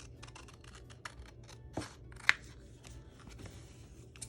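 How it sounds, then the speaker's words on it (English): Quiet, close snips of scissors cutting paper, a few sharp clicks scattered among soft rustling, with one louder snip in the middle. "I'm just going to use my scissors and fussy cut these out really fast"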